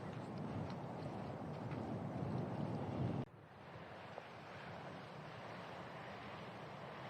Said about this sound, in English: Wind coming back into the players' faces.